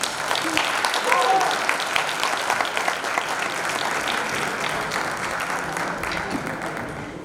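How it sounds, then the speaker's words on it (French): Concert audience applauding musicians at a show, a dense sustained wash of clapping that swells early and carries steadily to the end, with some cheering voices mixed in. "On peut applaudir très très fort, les voici."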